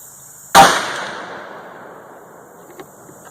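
A single loud, close 450 Bushmaster rifle shot, loaded with Winchester 296 powder and 225-grain FTX bullets, cracks sharply and then rolls off in a long fading echo, with no voices.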